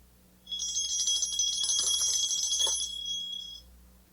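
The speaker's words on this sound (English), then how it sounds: "Perhaps the bell sounds something like this." A bright, shrill bell rings continuously for about three seconds, loud and sustained with a rapid metallic trill, then stops abruptly, standing alone against quiet.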